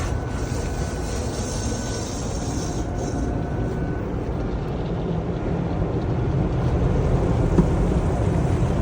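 An automatic car wash machine scrubs and sprays a car's sides and top, producing a steady, loud rushing roar of water and brushes that swells slightly toward the end, with a faint high whine early on.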